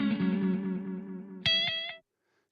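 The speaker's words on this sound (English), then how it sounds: "Remember, we're just hearing the echo right now." Tape echo from the Space Echo iOS app: a sustained harmonic tone fades out, then a bright repeat enters and pulses in quick, regular decaying echoes before stopping abruptly, with no talk.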